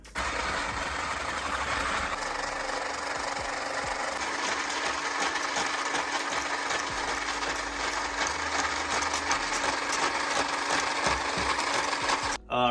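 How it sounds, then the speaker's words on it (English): Egg whites with a pinch of salt are whipped with a steady, droning motorized whir that runs evenly for about twelve seconds and then cuts off abruptly, with no speech. "The egg white, after being whipped, should not fall out of the container"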